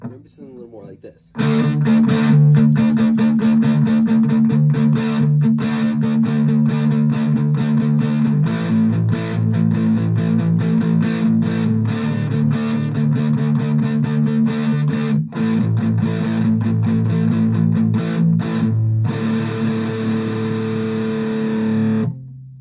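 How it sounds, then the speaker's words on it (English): Electric guitar through a Blues Driver overdrive pedal plays sustained chords and riffs with a warm, gritty crunch, loud and continuous for about twenty seconds. "That's the blues driver pedal for you."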